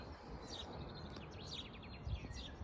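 Faint, high whistling bird calls rising and falling a few times over a soft, steady background hiss, in a village in the morning.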